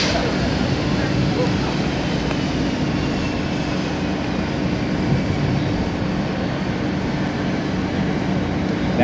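A C-17 Globemaster III military transport taxis and swings around on a wide runway at an air show, its steady jet engine roar loud and continuous throughout, with voices talking over it.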